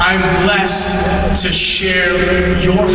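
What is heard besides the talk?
No everyday noise stands out behind the speech.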